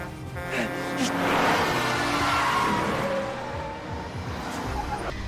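A car chase from the Korean action film The Childe, with revving engines and screeching tires rising to a loud peak and then easing off, in a dense, busy film soundtrack.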